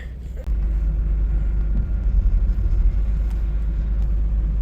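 A car stuck in snow rumbles with a loud, steady low engine drone that jumps up after a brief quieter start and holds through to the end, with no talking.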